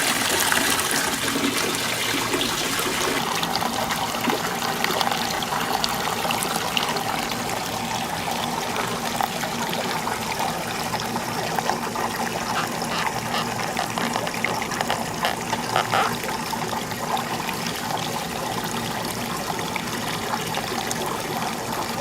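Water running continuously through a placer gold stream model, a close, steady trickling and gushing flow with no talk.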